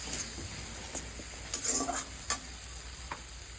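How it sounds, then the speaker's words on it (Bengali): Fish curry masala with green chili paste sautéing in oil, a low steady sizzle broken by occasional spatula scrapes and taps against the pan, close and fairly quiet, no talking. "ভালো করে কষিয়ে নিচ্ছি।"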